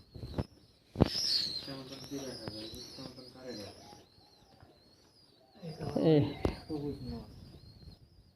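Giribaz tumbler pigeons kept by a fancier coo softly in a loft, with low throaty calls in a few bursts under close conversation, plus a brief flap or knock.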